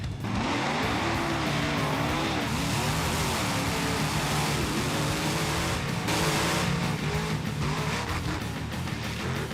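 Monster trucks race side by side in an arena, engines roaring loudly and continuously with revving surges and tire noise, no voices.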